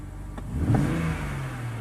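A BMW engine revs up on a quick tap of the throttle, with a stutter as it comes off, then drops back to a steady idle. The rise is short and fairly close, with no talk.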